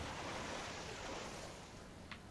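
Water in the underground world of the video game Metro 2033, a steady broadband wash like lapping surf or rushing flow, close and fairly even throughout, with a brief faint splash or click near the end.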